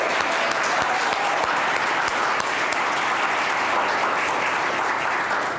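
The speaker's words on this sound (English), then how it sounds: "Can we clap for them again?" A full room of audience members applauds the West Chorus at a winter festival, a dense, steady roar of clapping that holds at an even level throughout, with no voices rising above it.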